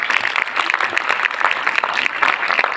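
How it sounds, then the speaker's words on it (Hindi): An audience claps loudly and densely at a book fair event, a sustained burst of applause from many people filling the room. "एक बार जोरदार तालियां अपने लिए बजाइए पहले"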